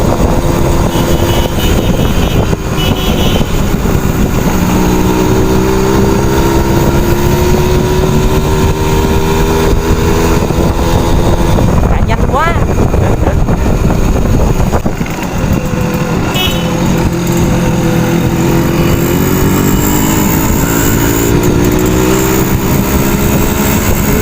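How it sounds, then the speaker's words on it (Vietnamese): A Simson S51 motorcycle being ridden, its engine and exhaust roaring loud and close without a break, with the pitch rising and falling as the rider works the throttle and wind rushing underneath. "Anh chạy rất là nhanh ha, cái tiếng bô nghe cũng rất là đã nữa bạn."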